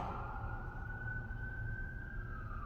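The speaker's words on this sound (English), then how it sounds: "It's creepy hearing the police sirens in the background right after we tell the story." Faint emergency sirens wail in the distance outside a Memphis building, a single drawn-out tone sliding slowly over a low background hum.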